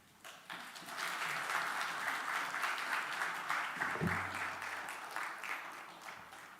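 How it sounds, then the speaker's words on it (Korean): A church congregation at a New Year's afternoon worship service gives welcoming applause to a newly arrived pastor, steady dense clapping that rises quickly and holds for several seconds. "나오실 때 우리 한 번 더 환영과 축복의 박수 부탁드리겠습니다"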